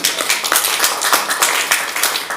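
Applause from a Torah study group, a steady patter of hand claps that carries on for a couple of seconds with hardly any voice under it.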